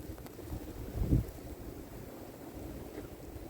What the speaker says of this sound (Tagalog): Talaga naman sa lakas ng hangin na kasama.